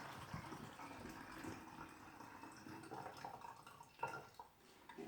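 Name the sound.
pouring cold water and bleach through a funnel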